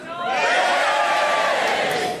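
A live comedy audience cheers together in one sustained, loud roar of voices that rises quickly, holds steady for about two seconds and then tails off.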